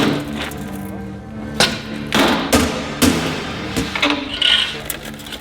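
A series of heavy thuds and sharp cracking blows, irregular and close, as a hard device is smashed open to release pills.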